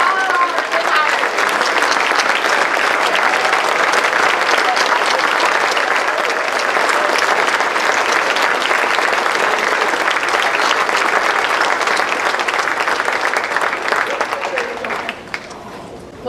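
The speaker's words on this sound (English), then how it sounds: "We need everybody to stand up, give them a round of applause." School district retirees at an Evening of the Stars awards event receive a long standing ovation, a dense, even roar of many hands clapping loudly from a large crowd that thins and tapers off near the end.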